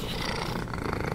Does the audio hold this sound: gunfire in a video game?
no